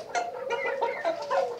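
Chickens cluck busily at feeding time, a close, dense run of overlapping clucks and calls across the short stretch with no talking.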